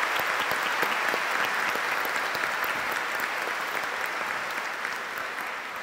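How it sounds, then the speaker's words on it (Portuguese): Congregation at a Catholic Mass in a parish church gives a steady round of applause, dense and sustained, slowly fading toward the end. "vamos acolher a todos com a salva de palmas"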